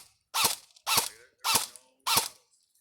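An airsoft gun is fired four times in a steady rhythm, each sharp crack with a short mechanical rattle, close and loud with quiet gaps between shots.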